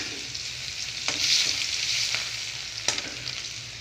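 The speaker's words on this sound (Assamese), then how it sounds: "এতিয়া পিঁয়াজ আৰু তেজপাত দি দিলোঁ" Sliced onions and bay leaves fry in hot oil in a pan, a constant close sizzle broken by a few sharp spatula scrapes and stirring clatters.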